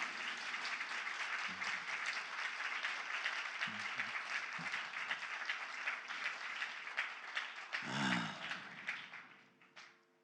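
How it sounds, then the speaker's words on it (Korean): A church congregation at an evening service applauds in sustained, moderately distant clapping that swells near the end before trailing off, with a few low thumps scattered through. "우리 박수로 한번 크게 다시 한번 위로해 드리세요"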